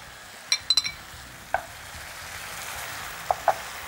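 Grated khoya being stirred into a frying mixture in a pan, a few sharp spoon scrapes and clicks over a steady low sizzle, close and alone without talk.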